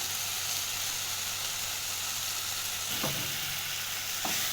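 Beef stew with masala sizzles steadily in a hot pot as green pepper is stirred in, a continuous frying hiss broken by two soft scraping stirs near the end.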